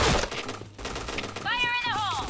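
Gunfire in the online shooter Point Blank, with rapid close shots and a burst at the start, then scattered game effects and a rising electronic tone over busy background noise.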